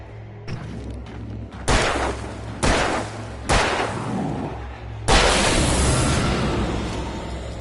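Gunfire in the video game Alan: four loud, close, reverberant shots spaced about a second apart, followed by a longer booming blast with a decaying rumble.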